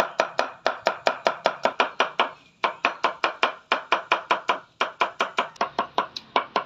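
Rapid, steady chopping of ingredients for Balinese sambal bongkot with a knife on a board in a village kitchen, about four crisp strikes per second with a brief pause midway, close and loud with no talk.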